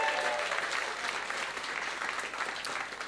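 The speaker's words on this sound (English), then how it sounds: "Give him a round of applause." Steady audience applause from a comedy show crowd, dense and sustained throughout with no gaps, fairly close and even in level.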